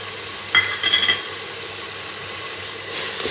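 Onion, tomato and garlic paste sizzles and fries in a pan for mushroom biryani, a steady close hiss with a couple of brief stirring clinks early on.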